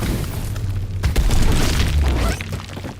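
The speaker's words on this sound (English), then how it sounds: "That's now gonna go around and do explodies everywhere to wake up the dead" A magic spell explodes in Baldur's Gate 3 as a deep rumbling boom that swells and lingers for about two seconds over a steady dense background rush, with no voices.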